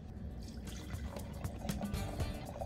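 Red wine, a 2018 Fossacolle Brunello di Montalcino, is poured into a glass with a faint, soft trickle and light splashing heard close up in a quiet room.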